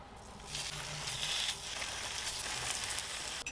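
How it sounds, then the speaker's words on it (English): Mixed meat with duck fries in a frying pan, giving a steady, soft hissing sizzle that runs the whole time at low volume, with no talking. "A frying pan on there."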